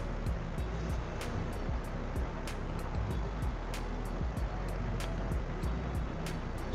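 Washed bitter gourds (karela) squeezed by hand to press out their water, giving a close, steady wet rush with faint repeated squelching ticks and no talking.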